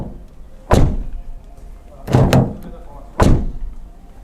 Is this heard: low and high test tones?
no